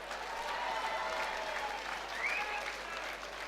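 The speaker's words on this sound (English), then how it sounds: "Ladies and gentlemen, round of applause for both fighters." Crowd applause rises for both fighters at the close of a boxing bout, a steady broad wash of clapping from a large audience with loud cheering mixed in throughout.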